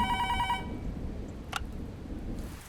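A telephone bell rings in a short repeating burst at the start, loud and clear, then stops, leaving quiet room tone with a brief click or clatter midway.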